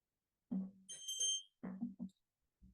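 A small hand bell rings once with a bright, brief metallic ding, marking the end of a meditation interval at a psycho-emotional support center, between short low murmurs in an otherwise quiet room.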